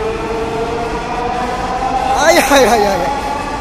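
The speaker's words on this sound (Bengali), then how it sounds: "আমাদেরকে নামিয়ে দিয়ে ট্রেনটা চলে যাচ্ছে" A metro train pulls away from a station platform with a steady rumble and a rising electric whine that swells toward the end, while a man exclaims close by.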